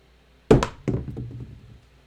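Dice thrown onto a craps table at a casino game: two quick hard thunks as they land, then a third knock and a short rattling tumble that fades out.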